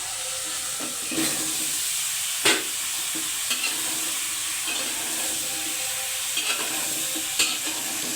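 Chopped bottle gourd hits hot spiced oil and is stirred, giving a steady, loud sizzle and hiss with occasional scrapes and clinks of the spoon against the pan, with no talking.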